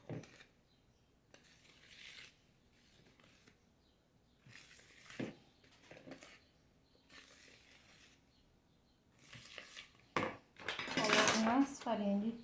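Lemon cake batter stirred gently in a bowl, soft intermittent scraping and tapping of a utensil against the bowl, ending in a louder clatter of dishes.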